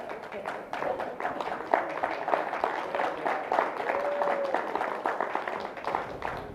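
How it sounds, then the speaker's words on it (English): Audience applause and clapping at a binational Colombian and American spoken-word performance, a steady wash of many hands lasting the whole stretch, fairly close, with scattered voices and cheers mixed in. "Clap it up for yourselves one time."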